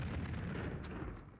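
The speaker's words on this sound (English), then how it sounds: "Grenade!" A grenade explodes in the video game Army Men 3D as one dense, loud, rumbling blast that fills the whole moment and slowly fades.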